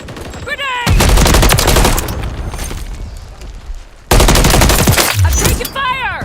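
Dense automatic gunfire from a shooter video game, loud and sustained in two long bursts with a short break between them, with shouted voices at the start and end.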